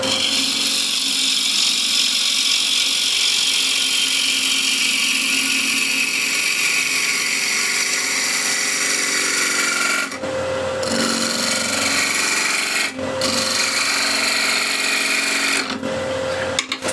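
A wood lathe spins at 1300 RPM while a worn spindle gouge cuts into a turning blank of wood, giving a loud, steady whirring and scraping drone that runs throughout, with a few brief dips where the tool lifts off.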